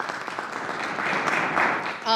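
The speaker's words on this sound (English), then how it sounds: "give them a round of applause" Scattered clapping from a small group at a Buffalo Bills press conference blends with a busy room tone and murmur, steady for a couple of seconds before a voice begins.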